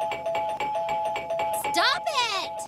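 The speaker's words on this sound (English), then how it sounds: "I'm gonna play with your doorbell until you pay up" Doorbell on a house in an animated comedy rung repeatedly, a rapid string of electronic ding chimes in quick rhythm, followed by a person shouting over it.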